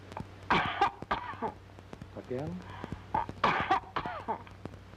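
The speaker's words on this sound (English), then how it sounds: "Cough" A woman patient coughs on request during a palate and throat function exam, with two short harsh bursts separated by a few seconds and other people speaking nearby.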